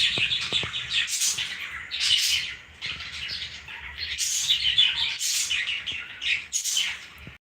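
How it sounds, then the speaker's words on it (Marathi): Loud, busy chirping and squawking from several lovebirds nearby, in dense bursts with brief pauses and a few wing flutters. "इथे लव बर्ड्स आहेत त्यामुळे जरा आवाज होतोय त्यांचा"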